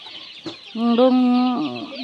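A native and Red Island chicken on a provincial farm clucks in a drawn-out, tonal call close by, preceded by a short cluck, against a faint background of other birds.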